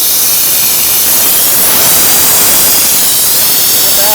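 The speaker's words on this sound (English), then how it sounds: "Let's open up the valve and see how this does sucking this old brake fluid" A compressed-air vacuum tool draws old brake fluid out of a car's master cylinder, giving a steady, fairly quiet airy hiss that holds evenly throughout at close range.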